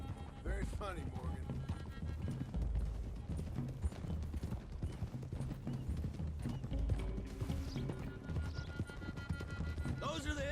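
Horses' hooves clip-clop at a steady trot in the video game Red Dead Redemption 2 while people talk over the sound and faint creaking mechanisms.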